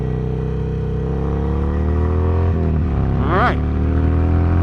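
A motorcycle with a Hammer Performance 1250 kit, converted from an 883, accelerates on the highway, its engine droning steadily and rising in pitch through gear changes, with a brief rider's voice over the engine.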